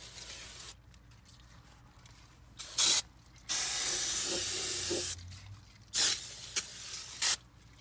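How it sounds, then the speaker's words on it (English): Several bursts of brake cleaner hiss from an aerosol can onto oily transmission line areas of a Honda Ridgeline, one long and a few short, loud and close, with quiet pauses between. "I'll spray brake cleaner in these areas here because it's all oily"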